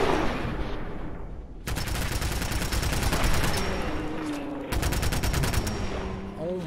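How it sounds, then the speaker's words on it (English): A pneumatic grenade launcher in Fallout 4 fires explosive baseballs in dense rapid bursts, two sustained volleys of crackling blasts separated by a brief lull, loud and close. "Are you shooting explosive baseballs?"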